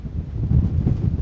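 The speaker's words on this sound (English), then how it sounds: "It is cripplingly cold and cripplingly windy up here" Strong, cold wind gusting across the microphone at a high lookout, a loud low buffeting roar that swells and dips continuously for a brief moment, with no voices.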